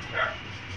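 A small pet dog gives a single short, faint bark in a home kitchen where chicken sinigang is cooking.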